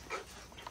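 A dog bark from a Fishguard Fx security alarm, triggered by a motion sensor, sounds as a short, fairly faint electronic woof followed by a couple of quick, smaller yelps, heard alone in a quiet room.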